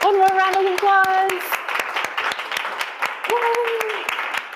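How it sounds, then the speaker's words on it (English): Audience applause after a panel discussion on women in STEM, dense steady clapping from a crowd throughout, with a voice singing or calling out tones over it near the start and again toward the end. "One more round of applause"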